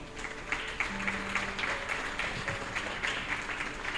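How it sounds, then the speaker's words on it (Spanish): Steady applause from a church congregation fills the space, a dense patter of clapping heard from a moderate distance. "Dele fuerte ese aplauso a Dios."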